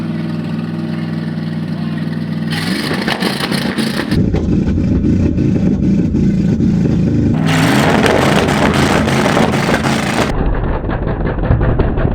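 Car fitted with homemade DIY twin turbos revs hard through a burnout, the engine roaring loud and close in surging bursts with heavy broadband noise, likely tire squeal and smoke-laden rasp, steady and continuous without speech.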